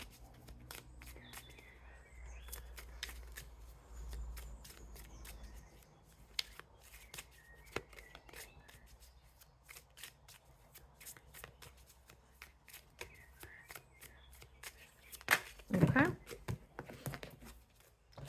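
A deck of Romance Angels oracle cards is shuffled up close in quick papery riffles and snaps, and one louder burst of flicking cards comes near the end, all under quiet talk.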